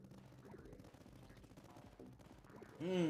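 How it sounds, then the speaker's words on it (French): Massed rifle fire forms a bullet barrage in the war strategy game Tower Dominion, heard as a dense, continuous crackle of shots under a voice. A brassy musical swell enters at the end. "Ah, le déluge de balles."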